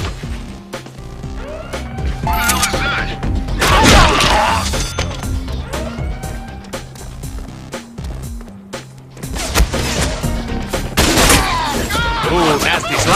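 Rapid gunfire, impacts and crashes from the Deadpool video game rattle continuously in dense bursts, with a voice heard over the action.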